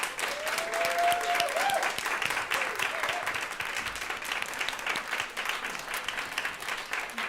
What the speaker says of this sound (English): Let's give her another round of applause for Isabel Hagen.